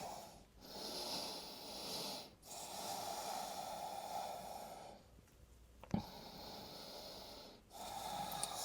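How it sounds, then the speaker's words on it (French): Deep breathing during a yoga hip stretch in a downward-dog pose: slow, close inhales and exhales with soft nasal rushes, repeated several times with brief pauses between, and no talking. "Une respiration profonde ici."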